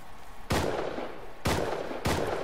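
Three loud gunshots ring out in a video game, spaced about a second apart, each a sharp close blast followed by a decaying rumble.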